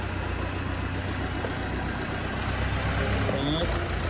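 A 2024 Orion 404 tractor with forced hydraulics and a Lombardini engine idles with a low, steady diesel rumble while being loaded in the rain, a voice speaking briefly over it.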